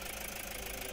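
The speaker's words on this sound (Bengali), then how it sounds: "এই হচ্ছে গাড়িটার engine condition, 1 KD engine, diesel engine." Toyota Hiace Super GL with a 1KD diesel engine idling, a steady low mechanical rumble with even knocking texture, close and moderately quiet, alone for a brief moment.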